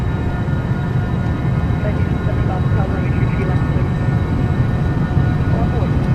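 Citation Sovereign business jet engines spooling at takeoff power in a flight simulator: a steady, loud, dense roar with deep low rumble that holds evenly throughout.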